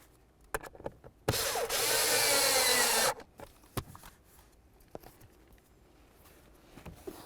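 A power tool whirs for about two seconds, tightening the blower motor bolts on a 2005-2010 Chevrolet Cobalt, loud and close, with clicks and taps of handling before and after.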